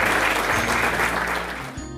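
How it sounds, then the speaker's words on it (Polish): Guests at a regional business awards gala clap together in a loud, dense burst of applause that carries through the moment and begins to thin toward the end. "Brawa oczywiście"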